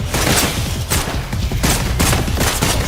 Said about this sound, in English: Let the bullets fly.